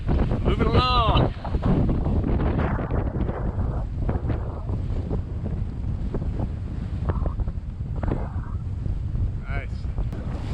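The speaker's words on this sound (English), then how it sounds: "We've got the motor off and sails up, moving along." A sailboat under sail in strong wind, motor off, on an open-water passage between Bequia and St Lucia; steady wind buffeting and water rush fill the whole stretch, with brief bits of talk and a whistle-like tone early on.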